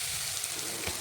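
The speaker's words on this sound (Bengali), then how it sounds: "এখন মশলাটা দিয়ে ভালোভাবে নাড়াচাড়া করে মশলা একটু কষিয়ে নেব।" Spices with Kashmiri red chilli powder fry for mutton biryani over a wood fire, a steady close hiss and crackle of oil as they are stirred, with no voices.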